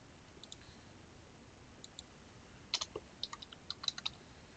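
Numbers are tapped into a calculator keypad in quick, faint plastic clicks, a few scattered presses followed by a denser run of taps in a quiet room.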